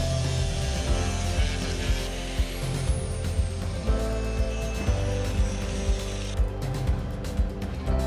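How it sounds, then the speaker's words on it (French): Angle grinder smoothing flat welds on a steel gear rack frame for a camper van, a continuous loud whine with rhythmic grinding pulses. "Maintenant, je meule les soudures pour que ce soit plus esthétique."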